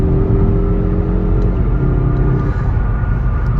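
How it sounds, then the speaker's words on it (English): 2023 Mazda 3 2.5 Turbo AWD accelerating, heard from the cabin as a loud steady engine rumble and whir, with the engine note shifting partway through as it pulls. "Let's try the acceleration."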